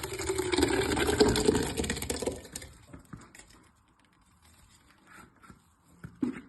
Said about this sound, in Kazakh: Енді осынан бірінші ыдысымызға май құймай тұрып помидорымызды құйып аламыз.